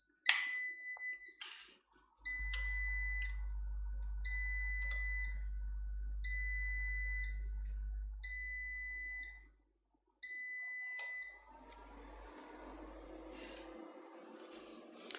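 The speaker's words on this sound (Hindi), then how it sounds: "there was a alarm ringing at the back" Smoke alarm sounding in the background, a regular train of shrill electronic beeps over a deep steady hum, ending abruptly before rustling noise follows.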